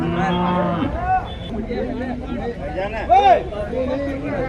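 A cow moos several times nearby, long low calls rising and falling, with people talking in the background at a cattle market in Nulvi, Karnataka.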